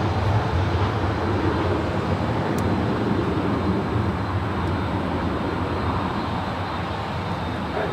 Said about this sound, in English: Nui Dreamliner making her way up here to 24 left for a departure